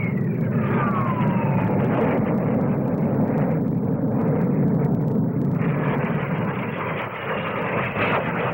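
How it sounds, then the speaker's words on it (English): A Vickers Armstrong Scimitar naval fighter bomber with two Rolls-Royce Avon turbojets flies past at the Farnborough air show, a loud, sustained jet roar with a sweeping high whine that eases near the end. "Vickers Armstrong Scimitar single-seat naval fighter bomber with two Rolls-Royce Avon turbojet engines."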